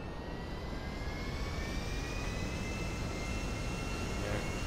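An airplane's jet engine in GTA Online, a steady, fairly quiet roar with a thin whine drifting in pitch, continuous from start to finish, with no talk.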